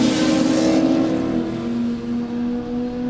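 A drag race car launches at a no-prep drag race, its engine giving a loud, sustained roar with a steady droning tone that eases slightly toward the end, close and continuous.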